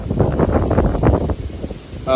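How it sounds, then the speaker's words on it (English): Strong wind buffets the microphone outdoors among common burdock plants in loud, rumbling gusts, with a brief voice at the very end. "it is extremely windy"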